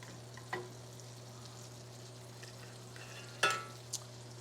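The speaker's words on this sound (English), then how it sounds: "Move this butter around a little bit." Butter sizzling in a hot pan for sausage, egg and cheese English muffins, a faint, steady frying hiss with a few small pops and scrapes as it is moved around, a low hum underneath.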